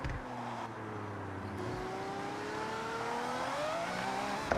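A car engine in the Forza Horizon racing game drones steadily, its pitch rising and sliding across the stretch, close and loud with no talk over it.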